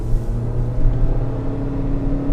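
A 2017 Honda CR-V pulls away on a main road, its engine a steady low drone that builds slightly under continuous road and tyre rumble, heard from inside the cabin with no talk.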